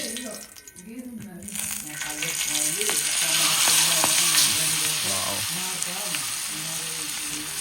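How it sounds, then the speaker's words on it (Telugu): Fresh fish dropped into hot oil in a pan sizzles loudly and steadily, the frying growing fuller after the first seconds, with a voice talking over it throughout. "సో అప్పుడు మనం ఆయిల్ వేడైపోయింది, మనం చేపలు దాంట్లో వేసుకుందాం."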